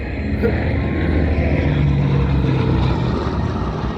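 Propeller aircraft engines drone steadily and loudly at an air show, one engine trailing smoke, forming a continuous rumbling roar with a faint voice underneath.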